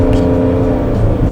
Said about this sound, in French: Oh la voiture, le bruit qu'elle fait à chaque fois, le petit moteur de 125